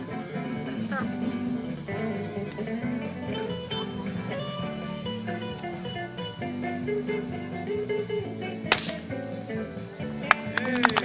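A bullwhip cracks at a state fair show, cutting a piece of paper held out piece by piece; sharp snaps sound near the end over lively background music, crowd noise and talk.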